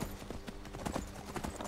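A horse's hooves clip-clop at a quick, steady gait in Skyrim, a rapid run of close, distinct thuds filling the short stretch.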